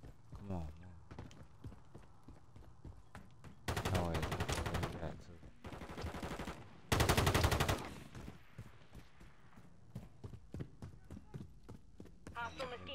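Video game gunfire comes as loud, sharp bursts of automatic shots in a few clusters, with fainter single shots scattered between them and someone talking over the action.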